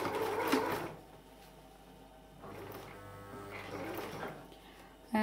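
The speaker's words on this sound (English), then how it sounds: "I'm trying to sort of get the machine to stitch in the areas where I see that there's no stitching." A sewing machine stitching through a handmade mini album, with two runs of mechanical whirring and rattling separated by a quieter pause, heard close up.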